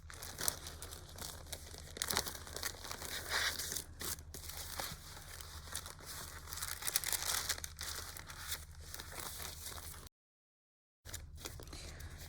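Sheets of coffee-dyed and avocado-dyed paper crinkle and rustle steadily as they are handled up close, with soft crunches and one brief silent gap near the end.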